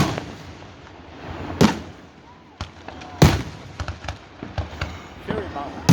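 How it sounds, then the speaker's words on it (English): Cherry bomb firecrackers explode outdoors in two sharp, loud blasts, followed by several smaller pops and crackles, with faint voices and background noise between the bangs. "Cherry bombs."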